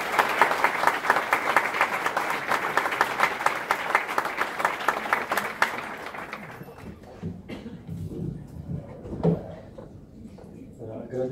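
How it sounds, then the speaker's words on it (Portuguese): Audience applauding to welcome a speaker at an event, dense clapping for about six seconds before fading into quieter room noise and low talk. "Le recibimos con un cariñoso aplauso."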